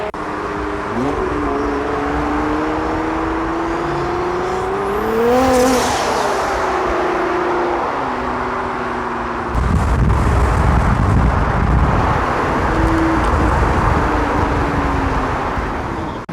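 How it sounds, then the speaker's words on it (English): Nissan GTRs and a supercharged Mini accelerate hard on the road: loud engine roar with rising and falling gear pulls, a whoosh around the middle, then a harsher, louder blast of acceleration and a further shift, up close. "The Mini gapping everyone with the supercharger."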